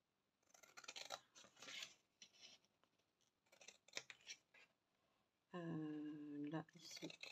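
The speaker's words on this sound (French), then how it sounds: "Là, on vient couper un petit peu en biais." Scissors snip paper at an angle, giving several short crisp cuts between brief pauses while someone speaks French over them.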